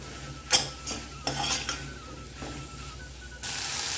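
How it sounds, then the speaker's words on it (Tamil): Chopped kohlrabi is sautéed with masala in a pan, with a soft background sizzle under several sharp metal spoon scrapes and clinks against the pan, then a louder rush of frying at the end. "இந்த மசாலாவை சேர்த்து அந்த நூக்களோட ஒரு ரெண்டு நிமிஷம் நல்லா அந்த பச்சை வாசனை போக வதக்கி விட்டுக்கலாம்"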